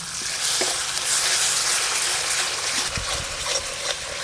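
Spices fry in hot oil for a Bengali fish kalia, giving a loud, close, steady sizzle with occasional stirring scrapes and no speech.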